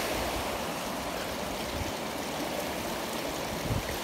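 Rushing water surges past a bridge after a heavy storm downpour, a steady, loud, broadband roar that holds constant throughout, close by with no talk.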